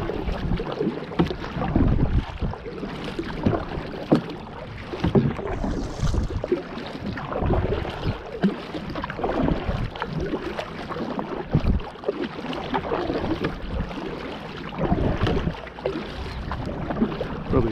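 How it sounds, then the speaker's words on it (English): Paddle strokes from a Wilderness Systems Tarpon 120 fishing kayak splash and drip steadily against the water, with wind buffeting the microphone throughout and no voices. "Probably paddling away from the fish."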